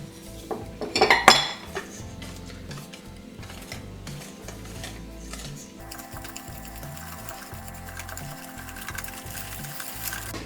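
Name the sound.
mixing cake batter with almond and wheat flour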